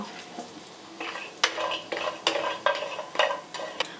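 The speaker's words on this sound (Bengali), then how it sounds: "বড়িগুলো আমি লালচে করে ভেজে নেব" A metal spatula clinks and scrapes repeatedly in a wok as black gram lentil dumplings fry in hot white oil, with sharp, close strikes at an uneven rhythm over a faint background hiss.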